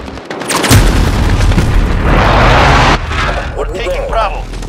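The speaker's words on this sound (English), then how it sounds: "Enemy precision airstrike." Heavy booming explosions from an enemy precision airstrike on the Scrapyard map in a Call of Duty-style Domination match, loud and sustained with deep rumbling blasts that swell and trail off over a couple of seconds, with battle noise underneath.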